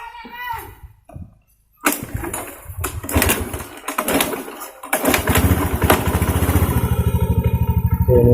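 A fuel-injected motorcycle engine is kicked over with a few sputtering tries and a short pause, then catches. It settles into a loud, steady, close-up idle, with voices talking during the early attempts.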